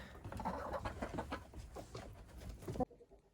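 Hens cluck in a chicken coop, with soft irregular clucks and rustling close by over a few seconds before the sound cuts off abruptly.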